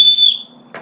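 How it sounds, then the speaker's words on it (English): One short, shrill whistle blast from a small whistle built into a sternum strap, loud and close, fading quickly, followed by a faint rustle. "Here, let's blow the whistle."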